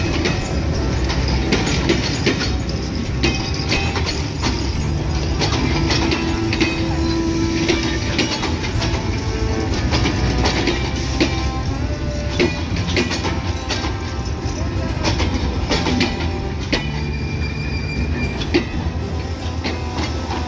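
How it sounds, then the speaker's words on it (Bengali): The 728 Down Rupsha Express, running from Chilahati to Khulna, pulls into Akkelpur railway station with a steady, loud rumble and clatter of railway cars and occasional faint wheel squeal, with no talk. "এই মুহূর্তে প্রবেশ করছে চিলাহাটি থেকে ছেড়ে আসা খুলনাগামী 728 ডাউন রূপসা এক্সপ্রেস।"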